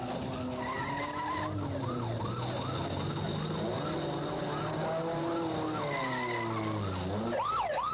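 A wailing police siren sweeps up and down continuously over the roar of cars as police chase a fleeing car at a roadblock, loud and close with engine noise underneath.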